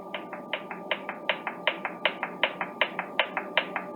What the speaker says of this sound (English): if you hear that ticking in the background, that's the signal that's coming out of the service monitor